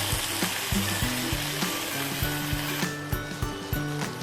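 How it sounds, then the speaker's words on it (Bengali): Chicken Manchurian with vinegar is stirred in a hot pan, giving a loud, continuous sizzle under repeated knocks and scrapes of a spatula. Steady music plays underneath. "দুই টেবিল চামচ পরিমাণ ভিনিগার দিয়ে ভালো করে নেড়ে চেড়ে নিতে হবে কমপক্ষে তিরিশ সেকেন্ডের জন্য"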